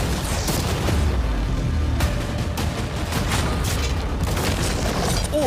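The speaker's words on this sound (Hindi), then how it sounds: "अब हम तुम्हारी नई यॉट पर कैनन्स को शूट करने वाले हैं" Cannons firing cannonballs at a yacht, heard as a dense, continuous barrage of booms and impact bursts at moderate distance, without a break for the whole stretch.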